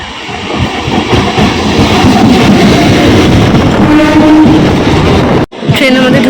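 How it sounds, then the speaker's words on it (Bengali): A commuter train on the Kalyani–Kanchrapara route rolls into a station with a loud, close rumble and rattle of the carriages that continues steadily, cut off abruptly for a moment near the end. "ট্রেন আমাদের ঢুকে গেছে, ট্রেন পুরো ফাঁকা।"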